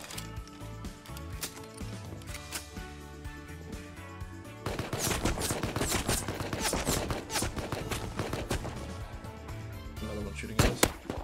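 Video game gunfire rattles nonstop in rapid automatic bursts, growing louder and denser about halfway through, with a few heavier single cracks near the end.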